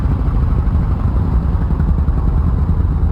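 Focke-Wulf FW 190 A-8 piston engine in a flight simulator throttling back, a steady, loud low rumble with a faint clattering texture that holds evenly throughout.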